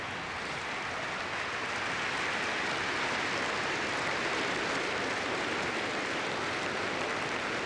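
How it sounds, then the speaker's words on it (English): Crowds outside Westminster applaud during Princess Diana's funeral, a dense, continuous wash of distant clapping that holds steady and sounds almost like heavy rain. "The applause that you hear is the applause from people outside Westminster in various places."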